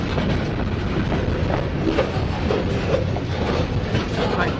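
A long freight train of trash cars rolls through a rail yard, with steady clickety-clack of wheels over rail joints and a continuous heavy rumble close by, with no talk.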